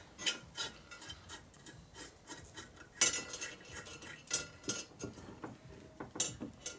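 A hex Allen wrench works a bolt on a Harley shovelhead motor being rebuilt for an FL bobber chopper, giving close metallic clinks, scrapes and rubbing in irregular bursts, with no talk.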